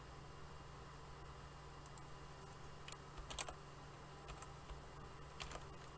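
Someone types on a computer keyboard, sparse and faint keystroke clicks in small clusters over a constant low hum of room noise.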